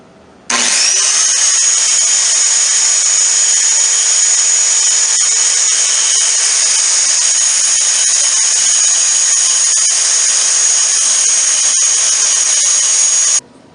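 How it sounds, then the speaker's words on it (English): A power saw cuts through a sheet of 1/4-inch plywood for a dresser back, a loud, steady high-pitched whine that starts abruptly and runs unbroken for about thirteen seconds before cutting off, close up and with no voices. "I cut a back for the dresser from 1/4" plywood."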